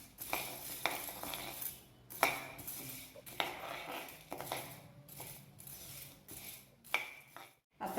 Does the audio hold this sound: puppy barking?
no